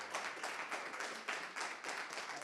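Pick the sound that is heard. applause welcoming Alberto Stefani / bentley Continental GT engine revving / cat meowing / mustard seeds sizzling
applause welcoming Alberto Stefani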